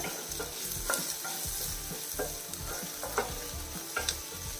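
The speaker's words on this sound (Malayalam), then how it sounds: "മീഡിയം ഫ്ലെയിമിൽ വെച്ചിട്ട് വഴറ്റിയെടുത്താൽ മതി. നമ്മൾ തക്കാളി നല്ല രീതിയിൽ വഴണ്ടിട്ടുണ്ട്." Tomatoes sautéing in a pan over a medium flame for a wheat ada dosa filling, with steady sizzling and a spoon stirring and scraping in regular strokes about once a second, close and alone.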